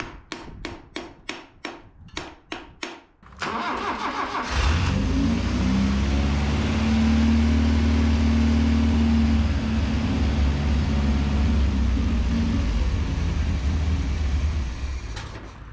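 A 1983 Mazda B2000 minitruck with a bad carburetor cranks in a rapid series of loud bursts, then catches and runs with a steady, rough, loud drone that holds to the end.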